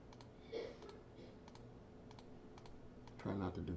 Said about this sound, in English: I apologize for all the clicking sound.